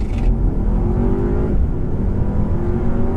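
A 2015 Audi A3 in regular mode with traction control on accelerates hard from 0 to 60 mph, its engine droning loud and steady from inside the cabin with a rising pitch and a brief shift partway through.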